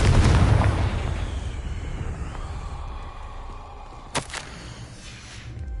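A Confringo spell blast from Hogwarts Legacy opens with a loud booming explosion and a long rumbling decay, followed by a sharp crack near the end.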